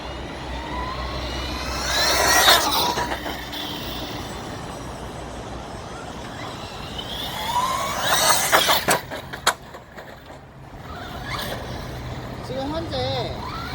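An ARRMA Outcast RC car speeds along a quiet road at top speed with high-pitched whining motor passes that rise and fall twice, plus a clattering brake moment, while someone talks over it in Korean.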